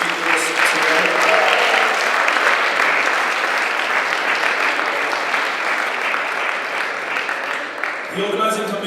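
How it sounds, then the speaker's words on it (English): An audience at the 6th World Zoroastrian Youth Congress applauds its legacy speakers, a dense, sustained round of clapping from a large crowd lasting several seconds at steady loudness, with some voices underneath. "Ladies and gentlemen, if you allow a round of applause for all our legacy speakers today"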